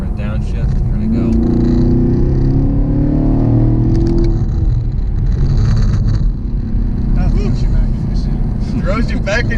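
A 2018 Chevrolet Camaro SS pulls hard after a downshift, its engine note rising loud and close from inside the cabin while people talk over it.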